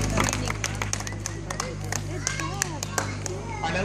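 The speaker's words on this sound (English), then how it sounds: "Give yourselves a hand clap." A tour group aboard a river boat on the San Antonio Riverwalk claps hands, scattered claps over a steady engine hum and crowd murmur, with voices and a guide talking throughout.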